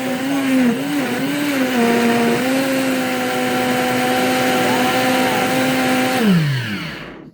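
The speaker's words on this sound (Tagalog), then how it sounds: "Ayun, guys, i-blend na natin." Blender whirring through a Herbalife shake, a loud steady motor whine with slight pitch wobbles early on, then spinning down as it is switched off.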